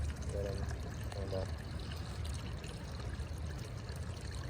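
Water poured out beside a spotted salamander, a soft continuous trickle and splash in a faint, noisy outdoor setting, with a brief voice murmuring early on.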